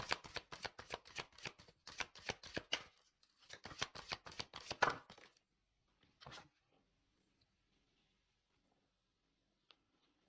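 Tarot cards riffled and shuffled in two close bursts of rapid flicking, followed by a single card slid and drawn, then near silence with one faint tap.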